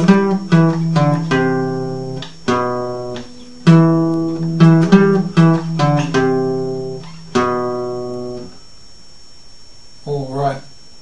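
A riff is picked note by note on a guitar's fifth string, a clean and close run of distinct plucks that repeats, followed by a brief voice near the end.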